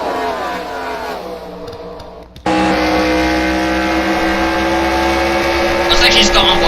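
Engines of racing pickup trucks in a video game race at Auto Club drone past in the pit lane, a loud sustained roar with shifting pitch, cutting in sharply partway through and overlapping.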